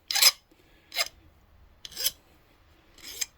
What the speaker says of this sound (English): The file will do most of the work right now.